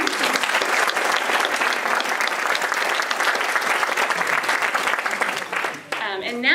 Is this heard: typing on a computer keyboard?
no